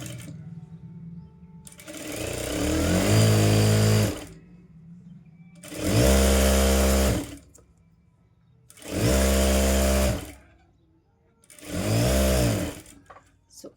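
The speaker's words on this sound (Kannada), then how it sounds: "ಮೊದಲಿಗೆ ನಾವು ಇಲ್ಲಿ ಅರ್ಧ ಇಂಚು ಮಡಚ್ಕೊಂಡು ಸ್ಟಿಚ್ ಮಾಡ್ಕೋಬೇಕು." A domestic sewing machine stitches a half-inch fold on a blouse in four bursts of a few seconds each, a close, loud whirring hum with quiet pauses between runs.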